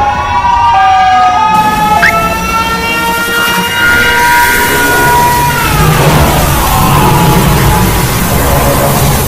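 Siren Head's wailing siren sounds loudly, layered tones rising and falling in long sweeping pitch bends that overlap and shift, continuous and piercing across the whole stretch.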